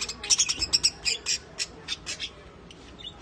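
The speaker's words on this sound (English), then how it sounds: "No store is complete without our bird friends." Birds in a pet store chirp and squawk in quick, bright bursts, a busy run of overlapping calls that is strongest at first and thins toward the end.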